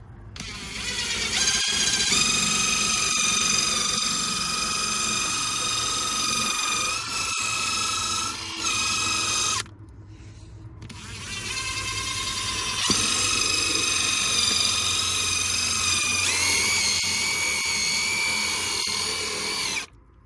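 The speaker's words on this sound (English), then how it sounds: "we're actually been using the same upholstery cleaner from our upholstery cleaning video, and a 2-inch detail brush to handle all the scrubbing" A Drillbrush power scrubber fitted with a 2-inch detail brush works upholstery with cleaner, a loud, steady, high-pitched drill whine that runs nearly nonstop. It breaks off briefly and then starts up again, with no voices.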